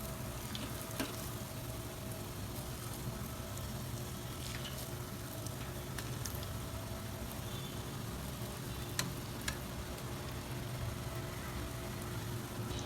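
Dahi vada frying and being turned in hot oil: a steady, soft, continuous sizzle throughout, with a few faint clicks from the flipping utensil and no voices.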